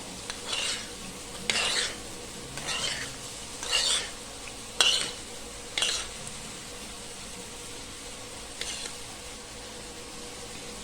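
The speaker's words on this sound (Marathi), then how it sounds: "आता ही फोडणी याच्यावर घालून घेऊयात" A mustard and cumin tempering poured over steamed oats dhokla, heard as a series of short scraping and sizzling bursts from a spoon against a pan, close and fairly quiet over a low kitchen background.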